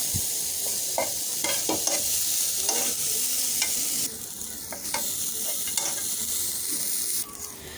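Steady sizzling of onion and dried chillies frying in hot oil, with repeated scraping and clattering from stirring throughout; no voices.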